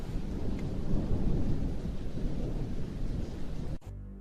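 Heavy, steady rain pours during a thunderstorm, with a continuous rumbling roar of thunder underneath, loud and close throughout, cutting off abruptly near the end.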